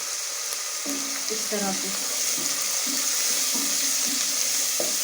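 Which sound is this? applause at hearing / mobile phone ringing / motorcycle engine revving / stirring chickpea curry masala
stirring chickpea curry masala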